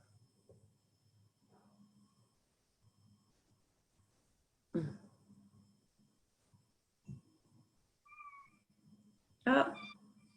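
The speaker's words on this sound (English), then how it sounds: "Here's my cat." A cat indoors gives a few soft, drawn-out meows spaced across a quiet room, mixed with low murmuring speech and a couple of louder bumps.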